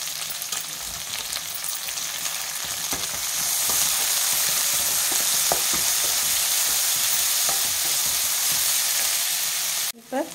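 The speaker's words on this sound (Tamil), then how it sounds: "வெங்காயம் கொஞ்சம் நல்லா வதங்கி வர அளவுக்கு நம்ம வதக்கி விட்டுக்கலாம்" Onions with garlic and curry leaves sauté in a pan, giving a continuous close sizzle and crackle that grows louder partway through, with occasional stirring scrapes and no talk.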